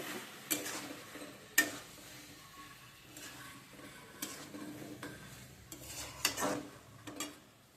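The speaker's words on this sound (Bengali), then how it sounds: "মাশরুমগুলো দেওয়ার পর আমি সুন্দর করে আবারও কষিয়ে নেব" Mushrooms are stirred and sautéed with spiced masala in a pan, with scattered spoon scrapes and clinks over a soft, steady sizzle.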